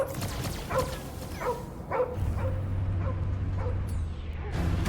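A dog, Cosmo, barks in the video game Guardians of the Galaxy: a string of about eight short, evenly spaced barks and yips, fairly close, followed by a low droning rumble.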